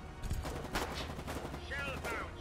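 Gunfire and artillery shelling in the war game Foxhole rattle in repeated bursts, moderately distant and muffled, with a voice speaking faintly underneath.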